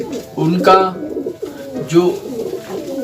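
Pigeons coo close by in soft, throaty, repeated calls over about three seconds.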